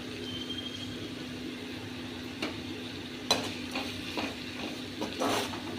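Green chillies and curry leaves sautéing in a pan while cooking Tamil fish curry (meen kuzhambu), with a steady low sizzle and a few sharp stirring clatters near the end, no talk.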